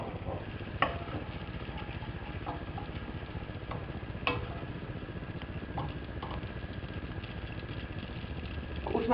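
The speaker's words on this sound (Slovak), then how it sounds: "Teraz k nemu pridáme pokrájanú cibulku a posmažíme." Chopped onion fries in melted butter and oil in a risotto pot, giving a steady, even sizzle with occasional stirring clicks and scrapes, close and fairly quiet, with no talking.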